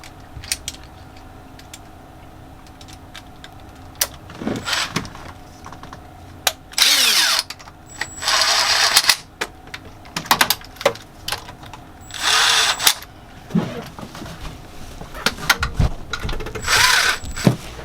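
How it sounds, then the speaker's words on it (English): A power tool drives and tightens the attachment bolts on a Lugger/Northern Lights marine engine PTO clutch, loud whirring bursts of a few seconds each separated by quieter clicks and handling of parts. "So then what I'll do is I'll tighten down the attachment bolts."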